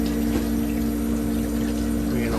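Water pump humming steadily inside a Manitowoc ice maker, a constant close motor drone with a low tonal buzz and faint water rush, unbroken throughout.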